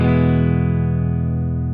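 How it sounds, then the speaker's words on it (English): A dry electric guitar plays through a Tonex into a Fender Deluxe Reverb amp, with no effects added. One loud, clean sustained chord rings out alone and fades only slightly. "Just the sound of the Tonex, the Deluxe Reverb that we got dialed up"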